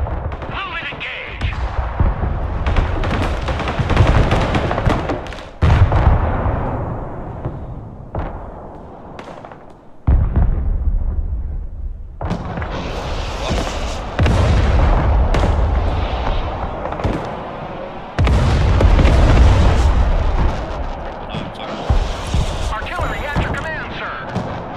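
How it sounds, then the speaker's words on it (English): Artillery fire and explosions in the war video game Broken Arrow, with continuous heavy booms and blasts throughout, loud and dense, over a low rumble, while a voice talks over the battle. "Firing artillery."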